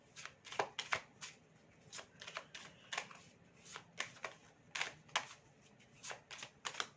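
Tarot cards are shuffled and drawn in a quiet room, a run of quick, crisp flicks and riffles in irregular bursts, close to the microphone and with no voices.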